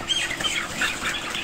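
Dense, steady chatter of many broiler chickens crowded together, a continuous murmur of clucks and peeps close by with no talking.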